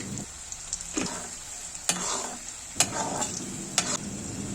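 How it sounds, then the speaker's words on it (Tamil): Chana dal, urad dal, dried red chilies and peanuts fry in hot oil with a bright continuous sizzle, punctuated by four or five sharp scraping stirs of a spoon against the pan. "நல்லா சிவக்க வறுத்துக்கோங்க."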